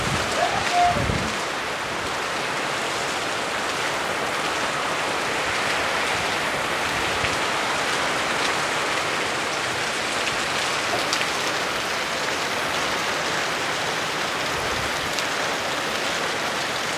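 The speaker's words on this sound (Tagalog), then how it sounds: "kasalukuyang malakas ang ulan ngayon" Heavy rain from Typhoon Ulysses pours steadily onto surfaces in a dense, continuous hiss that holds evenly loud throughout, with no talk over it.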